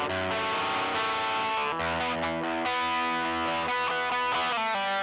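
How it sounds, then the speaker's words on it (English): A heavily distorted fuzz electric guitar tone, played through a Tweed Deluxe amp with the cab miked by an R121 and an SM57, rings out as loud, dense sustained chords that change a few times. "So let's just quickly go through this guitar tone."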